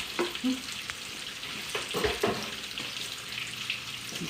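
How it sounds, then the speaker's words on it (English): Steady sizzling of bacon frying in a hot pan, with a few clatters and scrapes as it is stirred, close and moderately loud. "Let me give my bacon a quick little toss."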